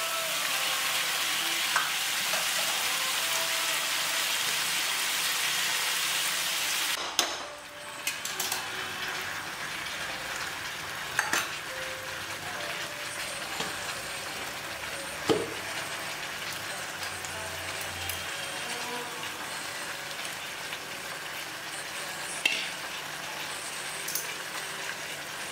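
Chicken with spices sautéing in a hot pan for coriander chicken, a steady loud sizzle with stirring scrapes, dropping to a softer frying hiss with occasional clinks after a sharp clatter.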